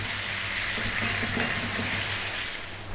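Chicken, tomato and a whole head of garlic cooking in a pan give off a steady close sizzle and crackle. It stays even throughout and dips slightly at the end.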